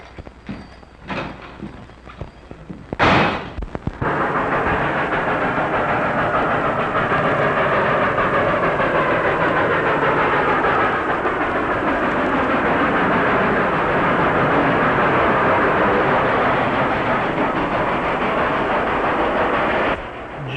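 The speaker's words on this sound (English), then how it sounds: "It's a ghost train, all right." A 1930s train rolls along the rails in a loud, continuous rumble with rhythmic clattering, heard up close after a few sharp knocks at the start, and it keeps going steadily to the end.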